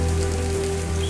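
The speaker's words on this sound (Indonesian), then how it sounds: "Nah, seperti ini kalau sedang turun hujan." Rain pours down and runs through a gutter into a vertical drainage pit, a short burst of steady loud splashing and rushing water.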